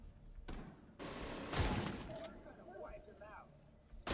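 Weapon fire in The Division 2, a few sharp shots spaced apart with a heavier blast near the middle, under a speaking voice and some game effects.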